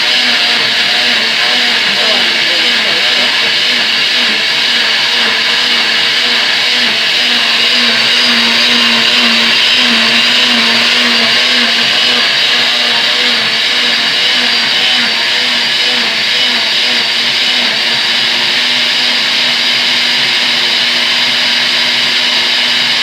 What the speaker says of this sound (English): this is a smoothie, this actually has a smoothie setting, we're going to switch that to smoothie.